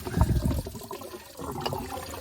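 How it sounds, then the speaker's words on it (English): Coolant spills and splashes from the removed water pump of a 2013 Audi Q5 3.0L S-Line, a close, uneven gurgling trickle with a louder splash at the start; no one talks. "Now the coolant is leaking."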